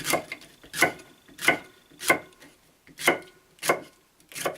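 A knife chops carrots steadily on a cutting board, about seven crisp, evenly spaced strikes, close and clear.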